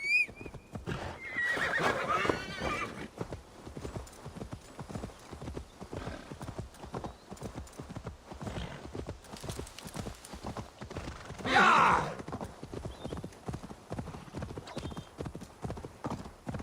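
A horse mount galloping in Assassin's Creed Valhalla, with rapid rhythmic hoofbeats throughout and two loud neighs, one early and one later, over the game soundscape.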